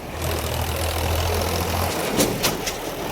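A tractor engine runs nearby with a low, steady rumbling drone that eases off partway through, joined by a few faint clicks and no talk.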